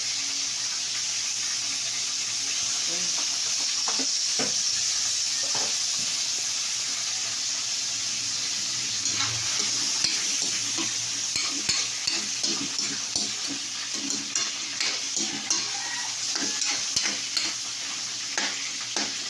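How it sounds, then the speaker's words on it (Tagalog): Ground meat frying with dried fish in a pan, a steady loud sizzle throughout, with a spatula scraping and stirring in short repeated strokes toward the end. "Palambutin muna natin yung ating giniling."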